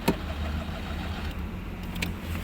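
A 1990 Citroën 2CV's small engine runs steadily at idle, a continuous low rumbling drone with a couple of faint clicks, close and fairly loud throughout.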